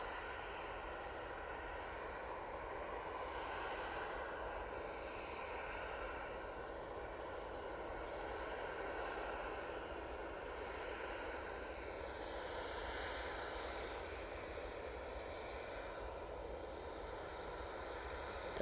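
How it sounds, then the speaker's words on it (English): An Emirates airliner, likely an A350, rolls along the runway at Manchester Airport with a broad, steady engine roar heard from the runway visitors park, sustained and moderately distant, with no talking over it. "the Emirates going past the runway visitors park there"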